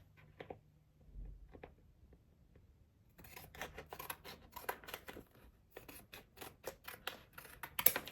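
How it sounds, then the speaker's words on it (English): Scissors snip through a paper sewing pattern on a plastic mat, sparse single cuts at first, then a quicker run of close, crisp snips and faint scraping; fairly quiet, with no talking. "just cut the pattern out on the plastic mat"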